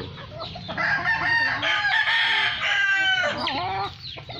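Chickens in a backyard poultry pen cluck and crow loudly and close by, several birds calling over one another in a steady, busy chorus.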